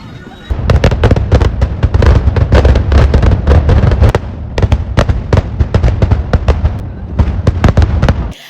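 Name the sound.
firecrackers bursting at temple festival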